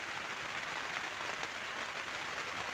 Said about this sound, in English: Not so much in the way of thunder and lightning at the minute, just the heavy rain.